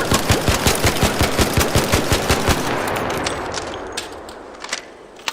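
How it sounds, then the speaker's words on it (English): The Bettina rifle is hip fired in a video game, a fast steady burst of automatic shots at a regular rhythm for about two and a half seconds, then fading into a ringing tail with a few scattered later pops. "So if I just use some aim control here, I'm just going to hip fire."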